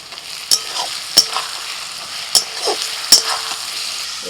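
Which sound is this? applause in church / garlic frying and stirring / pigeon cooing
garlic frying and stirring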